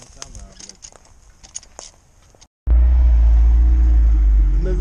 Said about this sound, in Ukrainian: Заднє колесо заблоковано. Як воно хрустить?